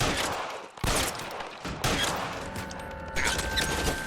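Gunfire in L.A. Noire as a shotgun-wielding enemy rounds a corner: a burst of loud, close shots and blasts, separated by brief gaps and trailing echoes, with no talking.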